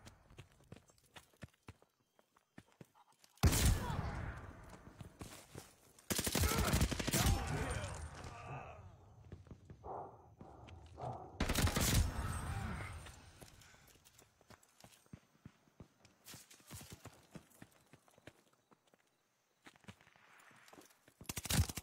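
Bursts of rapid automatic gunfire from a shooter video game crackle in several separate volleys, loud and close, with quieter gaps and footsteps between them.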